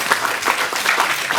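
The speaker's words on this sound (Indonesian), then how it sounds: "Oke, kita tepuk tangan." Audience clapping at a Salatiga mayoral candidates' debate, a brisk, continuous burst of many hands with slightly pulsing peaks, fairly close and loud, with no talk over it.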